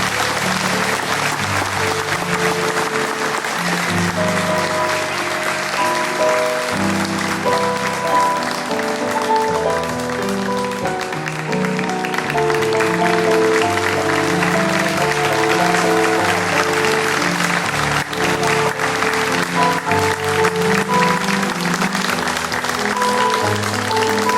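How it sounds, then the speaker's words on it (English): Steady, loud audience applause fills a hall at the Kentucky Mountain Laurel Festival queens coronation, honouring young women candidates from across the Commonwealth. It continues without a break under organ-like sustained music, with no clear speech. "One more round of applause for these beautiful young ladies from across the Commonwealth"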